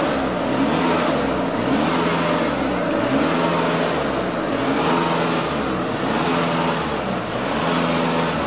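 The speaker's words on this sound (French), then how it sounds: "collègue va accélérer en fait toutes les minutes à 2500 tours" Steady, loud drone of an Audi Q3 2.0 TDI diesel engine held at about 2500 rpm during a particulate filter cleaning, with slow periodic swells in pitch and no talking.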